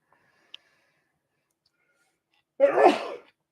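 A single sharp sneeze bursts out up close after a quiet pause, preceded by one faint click.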